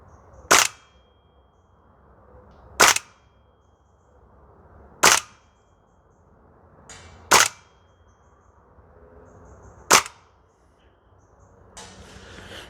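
A Toxicant XM5 Sig Spear gas blowback airsoft rifle fires five sharp, loud single shots at irregular intervals of about two seconds, each a crisp crack with a brief mechanical snap, over quiet outdoor range ambience.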